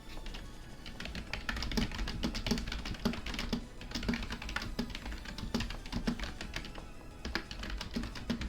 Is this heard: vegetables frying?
no